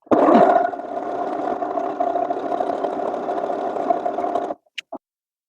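Home sewing machine stitching a buttonhole with a buttonhole foot: a steady, close motor whir for about four and a half seconds, then stopping, followed by two brief clicks.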